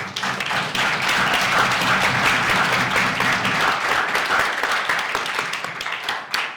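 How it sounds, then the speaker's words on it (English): An audience at a closing ceremony applauds steadily, dense clapping sustained for several seconds before tapering off near the end. "let's give another round of applause to our amazing"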